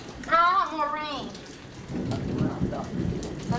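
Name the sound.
rain falling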